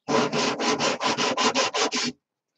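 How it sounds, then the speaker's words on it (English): Sanding block rubbed over the flat back of a wooden massage tool: about ten quick, even rasping strokes in a steady rhythm, close and clear, then silence. "Now I'm going to take the sanding block and get the back nice and flat"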